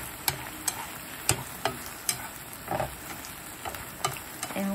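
Fried tofu being stir-fried with seasoning in a pan for vegetarian noodle soup: a soft sizzle under a series of sharp utensil clicks and scrapes against the pan, irregularly spaced, fairly quiet.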